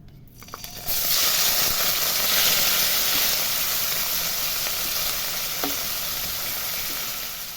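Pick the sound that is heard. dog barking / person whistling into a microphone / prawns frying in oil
prawns frying in oil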